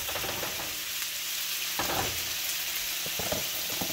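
Chicken tinga ingredients charring in a hot pan give a steady, dense sizzle, with occasional scraping and stirring clatter rising above the constant frying hiss.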